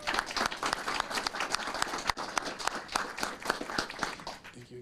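Audience applause at a city council meeting, steady, dense clapping from a room full of people, filling the whole stretch and tapering slightly at the end.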